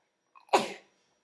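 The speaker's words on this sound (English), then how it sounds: "Excuse me, I'm going to sneeze." A single sharp sneeze, close and fairly loud, with a short breathy intake just before it and no talking.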